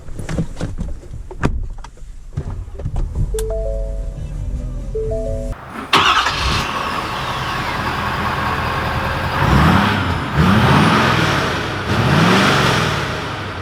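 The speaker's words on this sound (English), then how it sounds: "let's take this F-350 out to see how it drives" A 2020 Ford F-350 Limited pickup with a Powerstroke diesel engine drives off: a door thuds shut, the engine starts, then it accelerates with a rising drone and several revving gear pulls under steady road noise.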